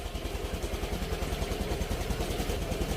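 A motorcycle engine running on a homemade battery, a steady, rapid low chugging idle with a rhythmic pulse, moderately close and alone.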